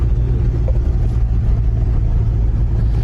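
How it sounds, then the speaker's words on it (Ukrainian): A tractor arriving across a field, its engine a constant loud low rumble that drones on without a break. "бачите, це вже трактор приїхав"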